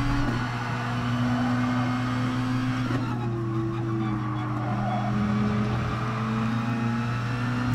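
A Red Bull X2014 Junior race car in the GT Sport video game runs at race pace, giving a constant loud engine whine with a steady low drone and shifting higher tones as the revs change.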